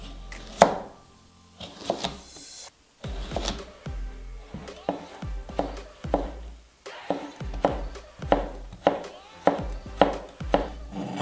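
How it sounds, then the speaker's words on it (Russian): Knife chopping a cucumber into thin strips on a board for a salad, a quiet, uneven series of close crisp cuts with short pauses between bursts. "Нарезаем соломкой."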